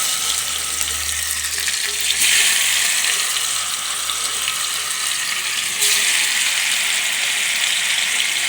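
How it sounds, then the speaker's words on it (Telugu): Marinated fish, coated in salt, chilli and turmeric masala, frying gently in a pan, giving a steady close sizzle throughout with two brief surges in intensity. "మళ్ళీ పెట్టి ఇది మెల్లిగా ఫ్రై అవుతుంది"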